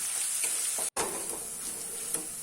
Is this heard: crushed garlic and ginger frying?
yes